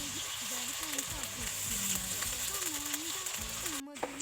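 Beef sizzles in hot oil with garlic and ginger paste while being stirred, a constant crackling fry beneath a person speaking, with a brief clatter near the end.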